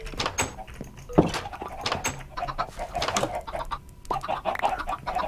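Chickens clucking in a Minecraft chicken farm, a busy cluster of short game-sound clucks and squawks repeating throughout at moderate loudness, with no talking.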